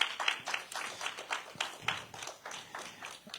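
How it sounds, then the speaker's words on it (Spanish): A church congregation claps at a Sunday service, giving a fairly faint, uneven round of applause with scattered hand claps that rise and fall in clusters, and no one speaks over it. "Un fuerte aplauso."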